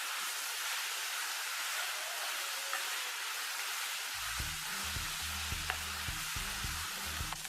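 Sliced onion sizzles and fries in a pan for a Kerala mutton varutharachath, a steady bright hiss throughout, with low rhythmic stirring or scraping thuds joining in the second half.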